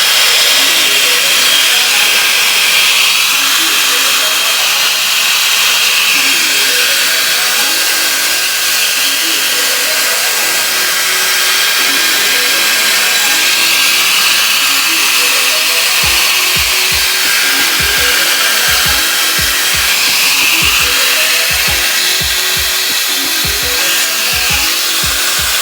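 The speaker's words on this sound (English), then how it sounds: "I'm gonna take my blow dryer and harden it a bit." A handheld blow dryer blows a steady, loud broadband whoosh onto hair set with a drawstring ponytail, running continuously throughout with a few handling knocks near the end and no talking.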